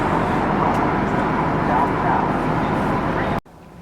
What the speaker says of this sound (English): Sounds like we're by a bus.